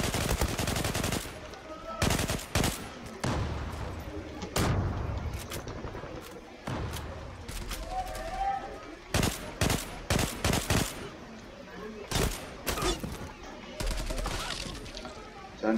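Rapid gunfire bursts and single shots crack repeatedly in a shooter video game, loud and close, with frequent pauses between volleys and people talking over the action.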